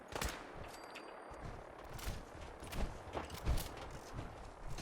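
Bursts of gunfire in Fallout 4, scattered sharp shots and short rattling volleys at moderate loudness with irregular spacing over a low background.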